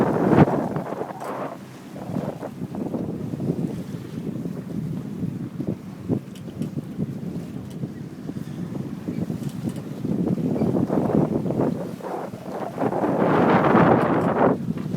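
Strong wind roars across the microphone aboard a 36-foot sailing yacht, with water rushing against the hull beneath a constant loud buffeting that swells in gusts near the end.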